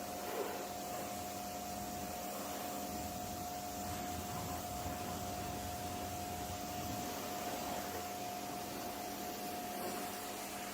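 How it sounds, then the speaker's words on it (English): A power washer rinses snow foam off a vehicle, working from the top down: a steady, loud broadband hiss with a constant tonal whine runs unbroken for the whole stretch, with no talking. "good power washer to remove all the foam"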